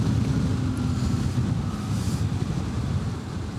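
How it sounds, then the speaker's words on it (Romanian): Wind blowing hard against the microphone, a steady rough rumbling whoosh that barely changes throughout, with no one speaking. "Da, că ploaia s-a oprit, numai cu vântul a rămas."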